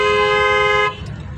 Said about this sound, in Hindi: हॉर्न मारो इनको सबको